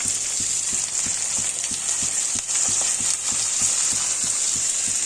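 Spice paste of cumin, coriander, ginger and chilli sizzles steadily in a hot pan, a continuous hiss with soft rhythmic stirring taps throughout, close and fairly loud with no talking.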